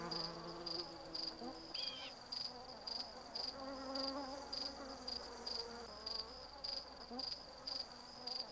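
Mosquitoes buzz in a 1994 DOS adventure game, Dragon Lore, as a thin, high whine that pulses in a regular rhythm over a low droning ambient background, with no talk.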